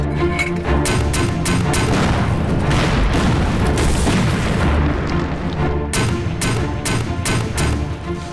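Dense battlefield gunfire and booming explosions from an anti-Japanese war film ambush, a continuous loud barrage of rifle volleys, artillery thuds and crackling shots with no break.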